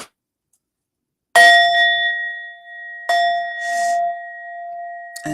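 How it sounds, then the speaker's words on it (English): Indian metal singing bowl struck twice, each strike a bright clang that rings on with a clear sustained tone, the second hit landing while the first still hums; near and alone, no talking. "I have this metal bowl I use with the beautiful Buddha in the middle."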